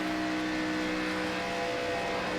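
Damaged engine of a race car in a Daytona racing game, a steady droning whine with a slightly rough, off tone, continuous and fairly loud with no talk over it.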